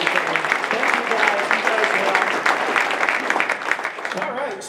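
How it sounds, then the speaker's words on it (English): Audience at an AI open mic and networking night gives the speakers a round of applause, steady dense clapping close by that tapers off near the end. "if you guys give the speakers another round of applause"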